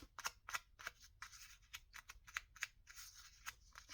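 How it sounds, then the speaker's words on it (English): Scissors snip repeatedly around the edges of a paper valentine postcard, about a dozen crisp, close, quiet cuts in an uneven rhythm. "To trim it off."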